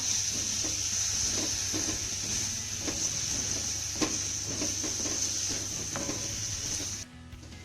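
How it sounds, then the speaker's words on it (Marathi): Chopped coriander being stirred into a steamed onion dish in a pan, with a soft steady sizzle and repeated scraping strokes of a spoon over several seconds before the cooking noise cuts off near the end. "कोथंबीर छान मिक्स करून घेऊया"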